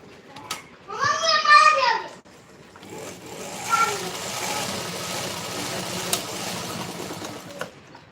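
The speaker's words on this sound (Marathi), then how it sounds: "त्याच्यावर लेस ठेवली आणि आता आपण शिलाई मारून घेऊ" Sewing machine stitching lace onto a triangular piece of cloth for a hanging tassel, a steady mechanical whir under a voice, with a louder burst of running near the start.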